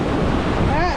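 Sea waves washing on a beach under gusty wind buffeting the microphone, a short continuous roar of surf, loud and close, with a faint high voice-like warble near the end.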